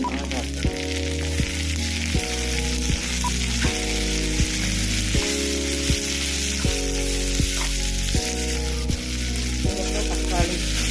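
Medium tomatoes frying with sautéed onions for chicken curry give a steady, bright sizzle that runs through the clip beneath louder stepping background music; no one speaks.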